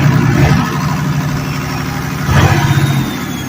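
An engine runs steadily at a low idle, with a brief rise in revs partway through, close by and fairly loud.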